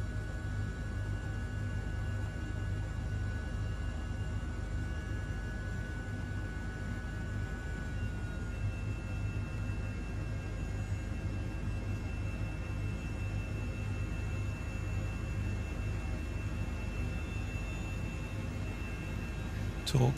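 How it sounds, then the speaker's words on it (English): Second engine of an Airbus H145 helicopter spooling up, heard as a steady, dense turbine roar and whine with faint tonal lines that shift gradually, continuous and fairly loud for the full stretch. "So we're now going to go for the second engine."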